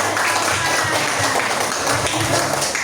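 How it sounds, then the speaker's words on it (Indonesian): A group claps for a pupil who has just recited Quranic verses in a classroom. The clapping is loud and close, with busy, uneven hand strikes and a bit of voice underneath. "beri tepuk tangan"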